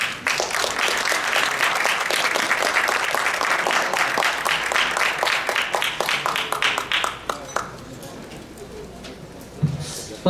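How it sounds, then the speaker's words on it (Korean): An audience at a press conference applauds to welcome a presenter, with dense, steady clapping that thins into scattered claps and then fades out. "박수로 환영해 주시기 바랍니다."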